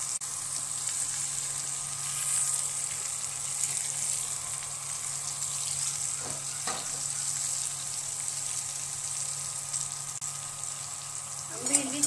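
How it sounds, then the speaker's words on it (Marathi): Okra sizzling in hot oil with cumin, mustard seeds, red and green chillies and curry leaves, a steady broadband hiss holding throughout with a few faint clinks near the end. "आता आपण भेंडी टाकत आहोत."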